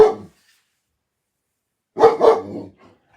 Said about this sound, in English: And that is why Lena is barking.